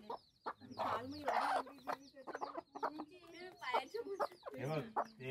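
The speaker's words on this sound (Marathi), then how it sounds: "एक कोंबडी 25 अंडी घालतात." Village chickens cluck repeatedly at close range in a backyard coop in Dapoli, Konkan, their short busy calls mixed with steady conversation.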